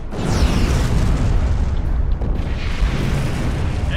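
A torpedo blast in a Star Trek Klingon space combat game, a loud rumbling explosion that swells and rolls on for several seconds with no speech over it.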